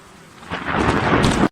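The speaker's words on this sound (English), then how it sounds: "In 2020, this plane was struck by lightning when flying over Finland." A loud rumbling crack of thunder from lightning striking a plane flying over Finland, swelling over about a second with rain-like noise before cutting off abruptly.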